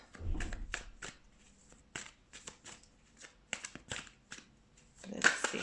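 Tarot cards are shuffled by hand in a run of crisp riffling bursts and soft slaps, close and quiet, with no talking.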